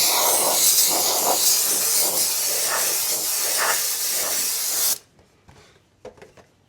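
Spray gun hissing out thick orange paint thinned with reducer onto a Losi NASCAR RC car body, a steady close airy spray for about five seconds that cuts off, followed by a few faint clicks and handling sounds.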